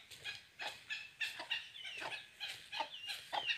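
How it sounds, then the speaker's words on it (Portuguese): A hen with her chicks clucks in a freshly cleaned coop: a steady run of short, close, moderately loud clucks and cheeps in an uneven rhythm, with no talking. "A galinha com os pintinhos tá aqui, ó."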